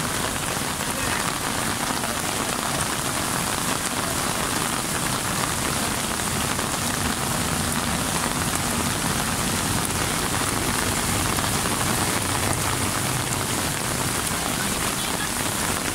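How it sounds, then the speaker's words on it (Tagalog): Heavy rain pouring down steadily onto surfaces, a dense, loud, unbroken hiss lasting throughout, with no distinct voices standing out. "Lakas naman ng ulan."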